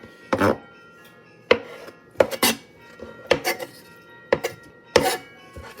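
Knife cutting tofu on a board, with a series of sharp, separate knocks and clinks at uneven intervals, fairly close and clear with quiet gaps between strokes.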